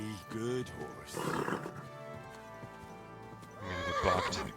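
Horse whinnies several times and hooves clop in the video game Kingdom Come: Deliverance II, loud neighs at the start and again near the end, with someone talking in between.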